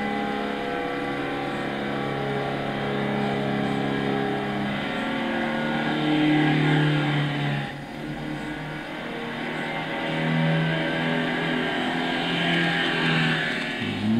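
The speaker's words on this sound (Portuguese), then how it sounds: "Vou deixar o ronco pra vocês. É um carro comum, não é um ronco bonito." Engine roar of a 1965 Nissan Silvia 1600 in Gran Turismo 6, a steady sustained drone with rising and falling revs, loud and continuous throughout with no talk.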